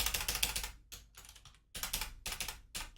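Rapid keystrokes on a computer keyboard come in close, brisk bursts, with short pauses between runs of clicking and no talking.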